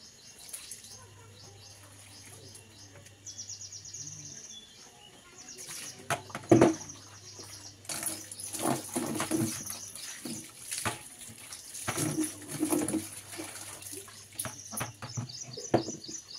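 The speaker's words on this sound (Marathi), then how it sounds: "पक्ष्यांचा आवाज, पाण्याचा आवाज, कपडे धुण्याचा आवाज" Outdoors during hand-washing of bedsheets, birds chirp and tweet while water splashes and pours in uneven bursts, with scrubbing and sloshing growing busier in the second half.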